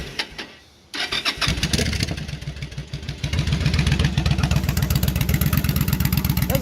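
A 2008 Yamaha V Star motorcycle with a homemade exhaust and factory header pipes cranks briefly, fires up and settles into a loud, close, rhythmic lumpy idle that grows steadier.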